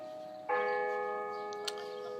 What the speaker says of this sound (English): checked out the Delacorte clock bells out by the Central Park Zoo